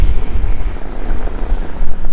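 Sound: strong wind buffeting the microphone

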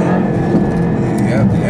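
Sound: car accelerating while cornering

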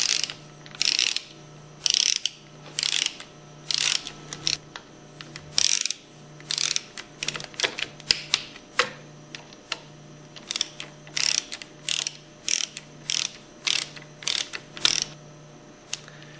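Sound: torquing pump cover bolts with Allen wrench

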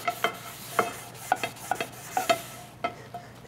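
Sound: scrubbing iron cookware with kosher salt or chain mail

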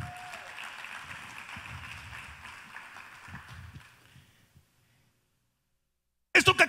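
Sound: congregation applause

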